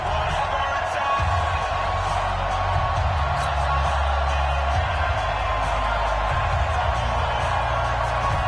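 A home crowd roars in a PS4 football game as the Miami Dolphins face Tom Brady and the New England Patriots, a steady wash of stadium noise that runs throughout beneath a commentator's voice.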